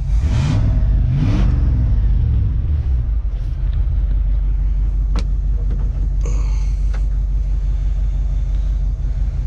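A 1971 Chevy engine running for the first time after ten years, a loud close rumbling idle that swells briefly as it revs at the start, then settles into a steady low drone with a few faint clicks and knocks.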